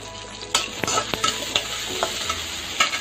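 Onions with a little salt sautéing in a pan for chicken biryani, a lively sizzle broken by sharp spoon scrapes and clinks against the pan, close and without speech.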